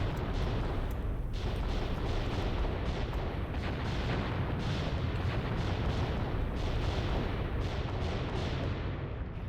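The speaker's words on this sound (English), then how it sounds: "There's the artillery, and the mortars coming in over there." Artillery shells and mortar rounds land in a continuous dense barrage in the Graviteam Tactics war game, loud rolling booms and crackling blasts overlapping throughout with no pause and no talk.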